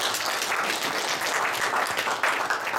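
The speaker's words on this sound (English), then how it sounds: "Please, round of applause." Steady, fairly distant applause from a crowd at an Aam Aadmi Party gathering, many hands clapping in an even wash that holds for the whole stretch with no voices over it.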